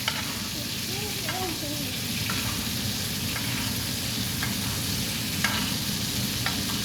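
A halal T-bone steak fizzes and sizzles in a hot pan as it is basted with butter: a dense, steady frying hiss, close and continuous, with a few soft spoon taps.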